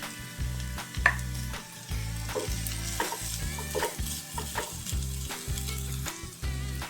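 Cooked chicken pieces frying in a masala with pepper powder, a steady sizzle broken by a repeating rhythm of low scraping stirs, close and fairly loud with no voices.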